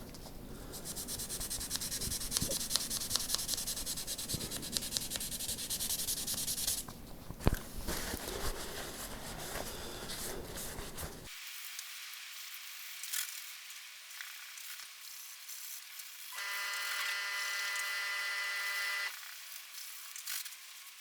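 Wet and dry sandpaper worked over lacquered guitar frets on a Telecaster, giving a steady gritty scrubbing that stops partway, followed by a brief brighter buzzing pass near the end.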